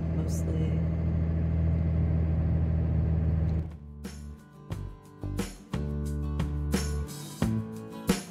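Car on a road by the Arivaca Creek trail in Arizona grassland, a steady engine rumble for several seconds that then drops away, followed by scattered knocks and thumps nearby.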